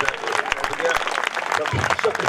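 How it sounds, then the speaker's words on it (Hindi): A crowd at a Hindi comic poetry gathering applauds with dense clapping, loud and continuous, while a voice speaks over it. "एक बार जोरदार तालियां बजाइए।"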